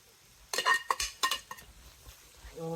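Cooked chicken being stirred with chilli, garam masala, pepper and chicken masala in a pan for Kerala-style cutlets: a few close metallic scrapes and clinks of a spoon against the pan, then quieter stirring.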